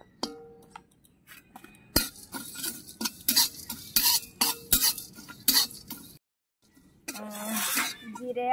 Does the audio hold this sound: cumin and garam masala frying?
yes